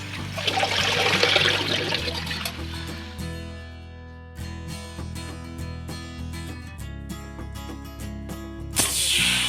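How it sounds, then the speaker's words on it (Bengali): Brahmi greens and broccoli being washed in water give running, splashing liquid sounds at close range, louder at the start and end, with clinking and pattering in between. "এবার আমি শাক ও ব্রোকলিটা ভালো করে ধুয়ে"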